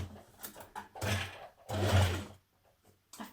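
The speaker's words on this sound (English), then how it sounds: "pop that under your machine, again without pulling because we are using jersey" Sewing machine stitching jersey dress fabric in short bursts, a whirring motor run of about half a second, then two longer runs, separated by quiet pauses, close and clear.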